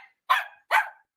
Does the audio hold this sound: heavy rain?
no